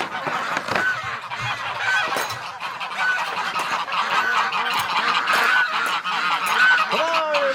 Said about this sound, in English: So let's let the ducks out.